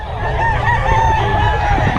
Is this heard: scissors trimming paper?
no